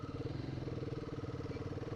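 Royal Enfield Guerrilla 450 motorcycle engine held at around 3,000 rpm, a close, steady pulsing thrum with a regular throbbing beat throughout.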